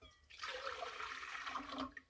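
Water pours from a container into a stand mixer bowl of flour fitted with a kneading hook, a short steady splashing rush lasting about two seconds.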